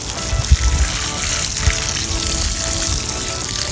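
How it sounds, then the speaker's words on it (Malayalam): Water poured from a can or hose onto newly planted fall flowers in a garden bed, a steady splashing wash with a couple of louder gushes, close by and continuous throughout. "വെള്ളം ഒഴിച്ച് കഴിയുമ്പോൾ"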